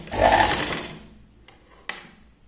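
A sewing machine runs a double line of stitching along the outer side of a Katori blouse, a loud steady whir for about a second that fades out, followed by two sharp clicks.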